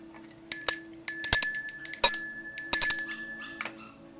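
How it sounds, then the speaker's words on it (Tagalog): A small bell in a tarot ritual rings several times in quick, uneven strikes, bright and clear with short shimmering decays, close and loud against a quiet room with a faint low hum. "kapag narinig ninyo ang bell, babanggitin nyo po ang pangalan ng inyong person"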